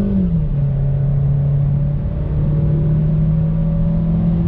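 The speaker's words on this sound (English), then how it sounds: "We're in the 2020 Sonic RS. Let's do a little acceleration test." A 2020 Chevrolet Sonic RS hatchback with a six-speed gearbox accelerates under throttle, its steady engine drone and road rumble heard loud and close from inside the cabin, the pitch dropping briefly as it downshifts, then holding.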